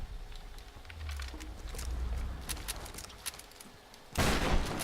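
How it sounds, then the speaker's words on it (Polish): A rapid string of crackling blasts from red bombs in the video game Tomb Raider pops off in the distance over low rumble, ending in a louder, fuller burst of noise. "Ale mam ochotę powybuchać te wszystkie bomby"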